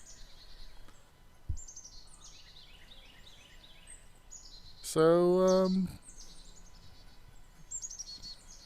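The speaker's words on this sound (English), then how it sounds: "Oh, hey, little bird. Another visitor." Small wild bird in the woods chirping in quick descending trills, faint and scattered, with one louder rasping harmonic call in the middle; a voice briefly speaks.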